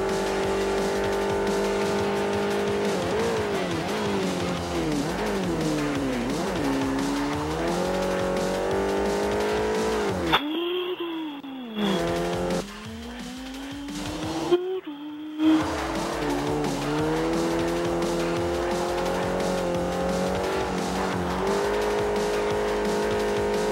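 A Renault Megane race car from Forza Motorsport 4 at Circuit de Catalunya: loud engine revving up and down through gear changes with bursts of tire squeal, a brief drop-out midway, and someone talking over it now and then.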